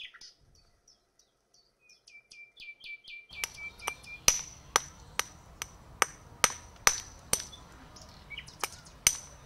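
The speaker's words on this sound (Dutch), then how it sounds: "Hoe het bewerken van vuursteen vroeger in zijn werk ging, laten we zien in deze demonstratie." Flint stone struck in a knapping demonstration gives a run of sharp, ringing clicks in a fairly regular rhythm, close and distinct. Bird chirps are heard before and between the strikes.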